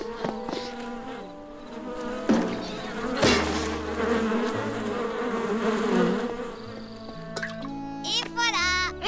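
Cartoon bees buzz in a wavering, insect-like drone that rises and falls, mixed with animated sound effects and musical tones, with a voice briefly heard.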